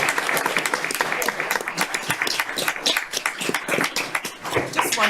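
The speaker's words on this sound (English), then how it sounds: "Let's give her a round of applause." A room applauds at a county council meeting, claps fairly close and busy for a few seconds while voices talk over them.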